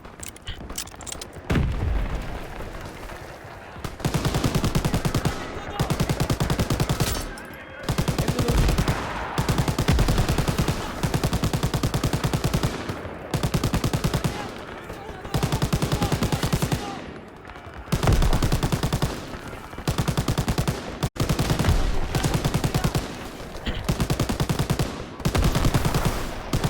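Repeated bursts of machine gun fire in the World War II shooter Call of Duty WWII, loud sustained volleys separated by short pauses, with booming battle noise throughout.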